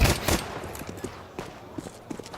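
Pistol shots crack in a Counter-Strike 2 esports match: a sharp burst of shots opens, then scattered single shots and light thuds follow at uneven intervals.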